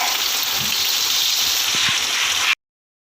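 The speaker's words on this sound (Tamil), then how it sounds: "அந்த வெங்காயம் நல்லா வதங்கட்டும்" Onions frying in a pan give a loud, dense, continuous hiss with a few faint knocks underneath, cutting off abruptly after about two and a half seconds, with no talking.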